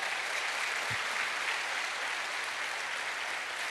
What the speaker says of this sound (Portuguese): Você pode aplaudir a Deus por causa disso?